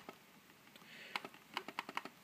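Soft, close clicks from the large trackpad of an ASUS K55N laptop, a quiet cluster of taps and presses toward the end in a hushed room.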